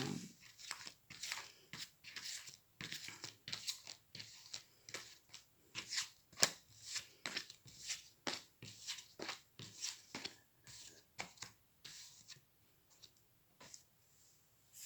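Playing cards shuffled for a fortune-telling reading make a quiet, steady run of crisp snaps and soft riffling flicks in a fairly regular rhythm, with no talking.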